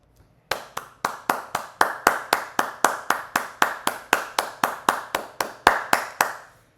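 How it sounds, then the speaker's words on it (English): Slow, evenly spaced claps, about twenty sharp strikes at a steady rhythm, loud and close, starting after a brief pause and continuing to the end with no voices. "She just started, and we already got the applause in."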